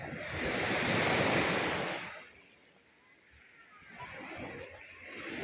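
Sea waves rolling onto the shore at high tide on Napo beach, a loud sustained wash of surf that recedes briefly and then builds again, with wind buffeting the microphone.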